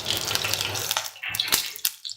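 Mustard seeds crackling and sputtering in hot coconut oil in a pan, a dense close hiss of popping that thins into scattered sharp pops toward the end.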